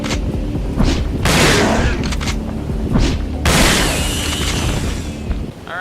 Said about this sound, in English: it took me 4 shots to defeat the hunters with the shotgun, even at close range